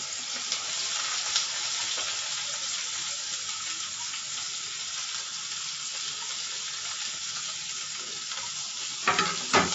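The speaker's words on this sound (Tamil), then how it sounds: "வெங்காயத்தை போட்டு நல்லா வதக்கிக்கலாம்" Onions fry in a pan for mutton gravy, giving a dense, even sizzle that holds steady throughout, with a few stirring knocks near the end and no voices.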